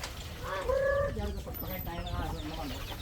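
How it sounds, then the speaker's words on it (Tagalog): Chickens cluck close by at feeding time, with repeated short clucks and drawn-out calls over a steady outdoor background, and a few faint voices in the distance. "magpapakain na si uncle ng mga manok niya o mga tarakan niya"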